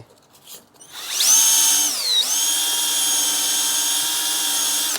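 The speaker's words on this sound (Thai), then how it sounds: "ขัดสนิมนะครับ กระดาษทราย" An electric drill spinning sandpaper to sand rust off a fan part spins up with a rising whine, dips briefly, then holds a loud steady high-pitched hum as it keeps running.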